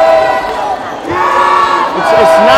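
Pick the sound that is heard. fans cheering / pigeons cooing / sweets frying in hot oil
fans cheering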